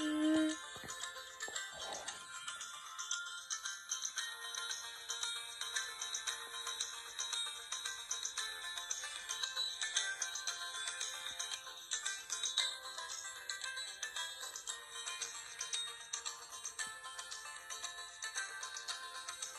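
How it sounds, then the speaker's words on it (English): Lilo and Stitch musical ornament playing a tinny electronic tune, thin and bright, continuous and fairly faint after a brief thump at the start, with no talking over it. "Leo and Stitch, ornament, musical ornament"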